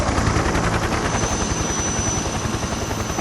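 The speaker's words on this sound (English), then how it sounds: "See, 5 helicopters carrying that giant thing" Several helicopters in Metal Gear Solid 3 carrying a huge load: a loud, continuous rapid rotor chop fills the whole stretch, close and dense with no voices over it.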